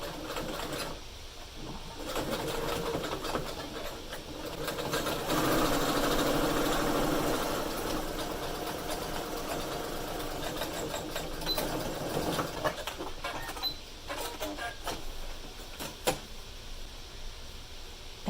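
Sewing machine stitching the left and right sides of a fabric pocket face mask, a steady rapid mechanical whirring that runs for long stretches with brief pauses, close and fairly quiet, without talking.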